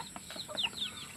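A chicken clucks a few soft, quick notes at moderate distance, brief and fairly faint, with no one talking.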